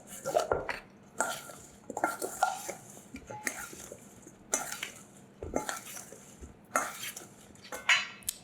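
Bulgur salad with olive oil being tossed in a bowl, a series of clinking, scraping utensil strokes against the dish in irregular bursts, close and fairly loud, with no one speaking.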